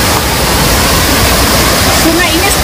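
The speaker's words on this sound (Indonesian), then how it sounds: "ada semacam sungai yang mendidih mengeluarkan asap ya ini" A boiling, steaming hot spring river at Cangar flowing past andesite rocks: a loud, steady broadband rush of water, close and unbroken throughout, with no distinct individual splashes.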